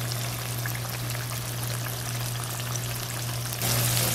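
A tilapia fillet pan-fries over a medium burner, a steady soft sizzle and crackle with a low constant hum underneath, no voices.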